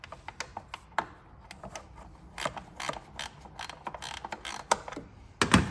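A ratchet loosens the 10 mm intake manifold bolts on a Chrysler 300 engine, giving irregular bursts of sharp, close metallic clicks separated by brief pauses.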